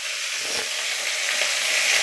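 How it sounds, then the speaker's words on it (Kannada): Chopped palak (spinach) leaves sauté on high flame in a pan, making a continuous, bright, hissing sizzle close up, steady and unbroken, with no talking. "ಹೈ ಫ್ಲೇಮಲ್ಲಿದ್ದ ಚೆನ್ನಾಗಿ ಬಾಡಿಸ್ಕೊಂಡು ಬರೋಣ ಬನ್ನಿ"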